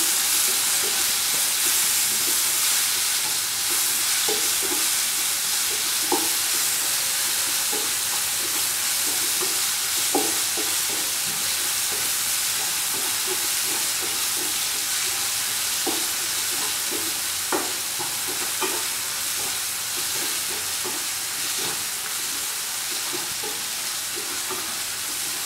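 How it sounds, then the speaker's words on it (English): Tomatoes and salt are stirred into hot oil in a pan for a home-cooked fish biryani, giving a steady, loud sizzle with scattered scraping knocks from the stirring throughout and no talk. "until it's thoroughly mixed with the oil, and then put in the tomatoes"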